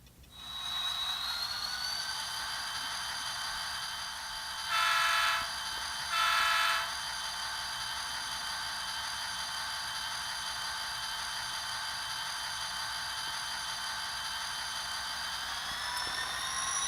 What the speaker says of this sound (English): And the train moves.